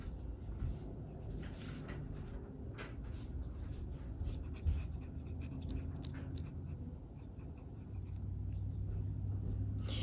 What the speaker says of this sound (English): And then I'll write down the name over here.